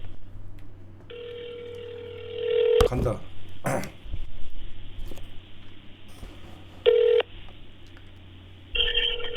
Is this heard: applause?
no